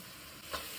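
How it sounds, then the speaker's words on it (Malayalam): Ground spices (chili, coriander, turmeric, cumin) are stirred as they fry in a pan for butter chicken, giving a soft steady sizzle with one brief scraping stir, close and quiet. "നന്നായി ഇളക്കി കൊടുക്കാം."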